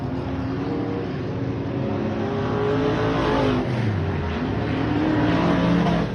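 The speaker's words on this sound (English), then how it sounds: "You'll hear it hit the limiter here" A race car engine runs loud and close on track for the whole stretch. It drones steadily with shifting harmonic tones, and the revs change in pitch without any clear bounce off the rev limiter.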